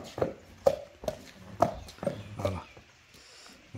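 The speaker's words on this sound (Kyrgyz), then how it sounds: "Мына достор, чоң бээ экен." A large mare being led on foot at an outdoor horse sale, about six distinct hoof clops in an even walking rhythm, close and fairly quiet, with faint background noise.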